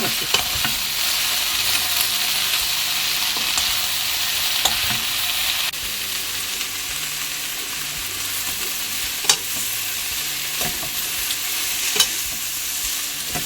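Dried eggplant namul with scallion and red chili stir-fries in a pan, a steady bright sizzle with occasional sharp clicks of a utensil against the pan, close and unbroken by speech.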